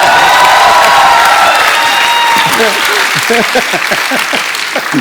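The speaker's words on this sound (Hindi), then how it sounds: "क्या स्टाइल है यार, एक बार तालियां बनती हैं दोबारा।" Studio audience at a comedy show applauds and cheers loudly, a dense steady roar of clapping with whoops, while a voice speaks over it toward the end.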